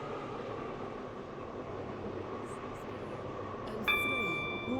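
Train standing at a station platform in the video game Stepford County Railway on the Waterline, a steady low rumble and hum with a brief chime-like electronic tone near the end.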